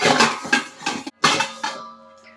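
Washed snapper fish are dropped into a bowl in the kitchen to drain, giving several loud, close clattering knocks and scrapes against the dish, each ringing briefly before a soft fading tone.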